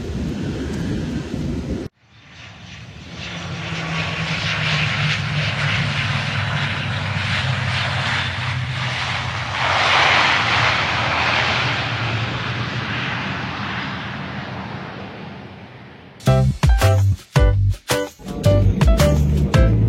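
Steady roar of an IndiGo passenger jet cruising on a one-hour Delhi to Hyderabad flight, a loud continuous engine drone heard from the cabin for most of the stretch, ending in a few abrupt bursts of clatter.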